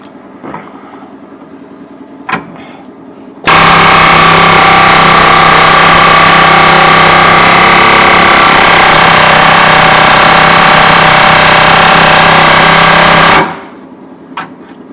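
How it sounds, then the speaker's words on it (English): An air hammer rattles hard against a stuck bush on a Toyota Hilux, a loud, close, continuous high-speed pounding that runs about ten seconds before stopping abruptly, with quiet clinks before and after. "I'm going to have a go before engaging gas torch just to see if it's possible an air hammer will shift it"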